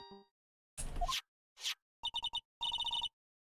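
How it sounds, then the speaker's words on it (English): Phone ringing in the Ace Attorney: Trials and Tribulations video game, a quick series of short electronic trilling rings after a couple of brief rustling blips, fairly quiet and with no talking. "Hey Nick, your phone."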